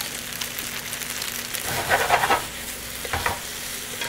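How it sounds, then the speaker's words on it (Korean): Yakisoba noodles stir-fried in a pan over high heat give a steady close sizzle, with louder scraping and stirring bursts near the middle and again toward the end. "그러면서 잘 볶아주시는 거예요."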